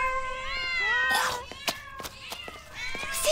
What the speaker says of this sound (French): je sens déjà mon cœur fondre pour tous ces petits chats